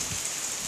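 Steady rain falling outdoors on a cold day, a soft continuous hiss of drops on surfaces, moderately quiet and close, with no voices.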